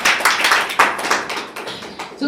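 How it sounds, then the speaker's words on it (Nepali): Audience applause for a participant at a public speaking training session, a quick run of claps that swell and fade over about two seconds, with a voice briefly speaking at the end. "एकचोटि जोरदार ताली उहाँको लागि"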